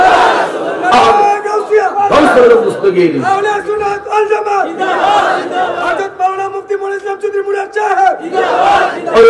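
A large crowd at a Bengali religious gathering chants a takbir response in unison, loud and close. The repeated call-and-answer phrases swell and pause in waves across the whole stretch.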